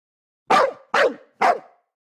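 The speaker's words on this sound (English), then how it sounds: "just ignore the dog. He's taken up residence on the pier and thinks it's his job to guard it" Dog guarding a pier in a hidden-object adventure game set in Amsterdam, three sharp, evenly spaced barks, loud and close against silence.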